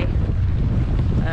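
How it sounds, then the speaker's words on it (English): Strong wind, around force 5 to 6, roars and buffets the microphone with a constant heavy rumble, without a break, aboard a boat at anchor. "It's so windy."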